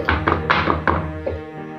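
Several dull thunks as a mould filled with chocolate mini cake batter is tapped down on a counter, about five knocks in quick succession, close by.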